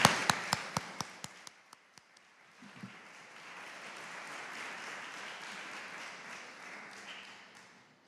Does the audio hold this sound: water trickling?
no